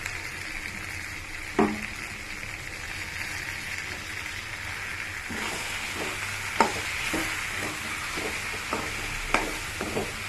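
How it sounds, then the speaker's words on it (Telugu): Fresh coconut fries in oil for a tomato curry, a continuous sizzle under scattered scraping and tapping from stirring, the knocks growing more frequent in the second half. "పచ్చి కొబ్బరి కూడా ఆయిల్లో మంచిగా వేగాలి"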